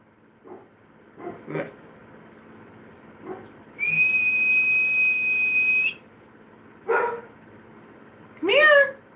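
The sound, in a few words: dog barking in the house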